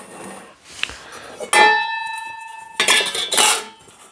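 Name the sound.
stacking Kelly Kettle metal cook set pieces together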